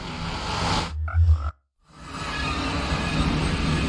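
Frogs croak in the video game Minecraft, a couple of low, throaty croaks in a short burst, close, over steady ambient background noise, with no talking.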